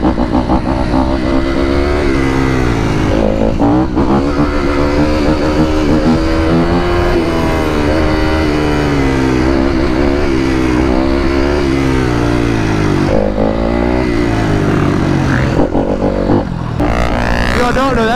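Jimmy's old motorcycle revs loud and close, its engine note sweeping up and down repeatedly in a continuous, rising-and-falling drone.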